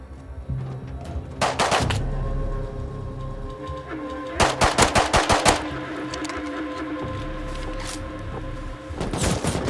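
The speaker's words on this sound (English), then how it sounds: "Oh, there's an AK." Rapid bursts of automatic AK rifle fire in a video game, several short volleys spread across the scene with single shots between them, fairly close and sharp over a low ambient hum.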